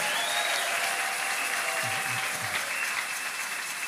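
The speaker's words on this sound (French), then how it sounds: "Est-ce que vous pouvez acclamer fortement?" Rally crowd applauding in sustained loud clapping with some cheering, dense and continuous, with a brief low voice murmuring underneath midway.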